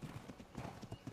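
Horse hooves in Ark Survival Evolved clip-clop in a quick, even series of close, soft thuds for a brief moment, with no voices.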